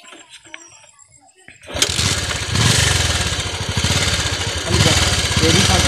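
A motorcycle engine revs as a learner practises balancing the clutch. After a near-silent start it kicks in loudly and holds a steady, buzzing rev that swells slightly toward the end, close by.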